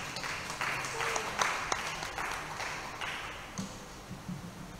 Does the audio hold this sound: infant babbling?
no